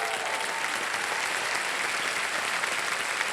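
Dense, continuous clapping from a TV quiz show studio audience on Kaun Banega Crorepati, even and sustained from start to finish.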